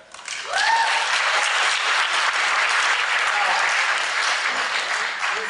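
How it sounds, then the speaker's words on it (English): Audience applause at a debate on whether God exists, a full crowd clapping loudly and steadily after a brief rise, with a short vocal sound near the start. "You folks have just applauded that point."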